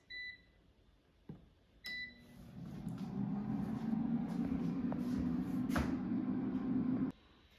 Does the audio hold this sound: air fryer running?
yes